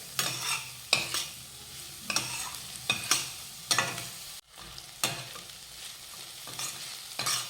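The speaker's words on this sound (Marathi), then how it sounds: "आता हे टोमॅटोवर चिमुडभर मीठ घालूयात म्हणजे टोमॅटो लवकर शिजेल आता हे परतून घेऊयात" Chopped tomato sprinkled with salt sautéing in a pan, with a repeated rhythmic scrape of a spatula stirring over a steady soft sizzle, close and alone with no talk.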